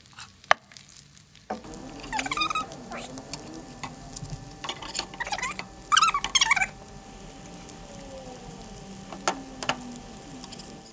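Plant-based patties frying in a pan and being flipped, a soft sizzle broken by scraping and clattering bursts from the spatula, with intermittent talking alongside.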